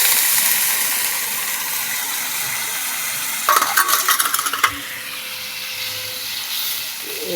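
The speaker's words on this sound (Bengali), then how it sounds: "এবার জল দিয়ে দিলাম।" Water poured into a pan of sizzling egg curry: a steady bright hiss of frying, then a brief burst of sputtering and clinks as the water hits, settling back into a softer, quieter sizzle.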